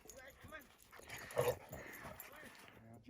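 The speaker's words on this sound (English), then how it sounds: "Dog time." Dog whimpering and yipping outdoors in snowy mountain country, a few short, faint whines mixed with speech, with one slightly louder cry near the middle.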